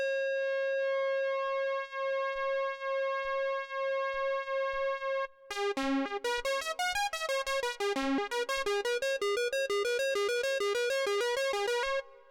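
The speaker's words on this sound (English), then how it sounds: "And what you hear is what we call the pulse wave modulation." Moog MultiMoog synthesizer playing a square wave on oscillator B, first a steady sustained tone, then a pulse-width-modulated phrase of rapid repeated notes with shifting, phasey timbre, loud and alone.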